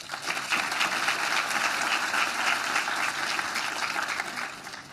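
A breakfast audience at a North Carolina legislative event on mental health applauds steadily, a dense, even wash of many hands clapping for about five seconds without a break.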